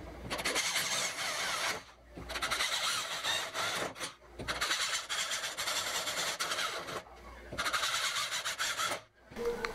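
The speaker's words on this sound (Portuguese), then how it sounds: "Agora eu vou furar com a broquinha e depois eu vou limar." Small 1/8 drill bit boring into a metal door lock, giving loud high-pitched grinding squeals in several bursts broken by short pauses.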